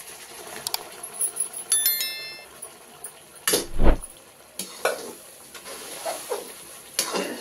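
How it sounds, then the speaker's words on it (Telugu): A spoon scrapes and clinks in a pan as boiled plantain pieces are stirred into masala for curry. The scrapes come in irregular bursts, with one louder knock near the middle and faint bell-like pings early on. "అది పోసుకున్న తర్వాత ఈ తండుకి ఈ మసాలాకి బాగా పట్టేటట్టు కొద్దిసేపు కలుపుకోవాలండి."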